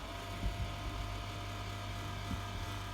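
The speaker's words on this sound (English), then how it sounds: "That's actually the fan in the power supply" A computer power supply fan runs with a faint, steady low whir and soft broadband hiss throughout.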